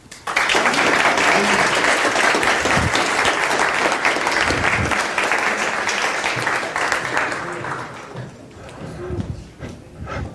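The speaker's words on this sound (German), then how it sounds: "Applaus." Audience at the closing presentation of a youth hackathon in Hamburg applauds with sustained clapping that fades toward the end, a brief voice heard near the close.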